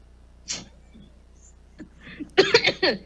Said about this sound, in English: So see, I still have a cough.